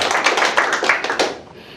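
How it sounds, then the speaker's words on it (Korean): Audience at a speech lecture breaks into a short burst of brisk, fairly close clapping that fades out after about a second. "좀 박수 한번 쳐보십시오"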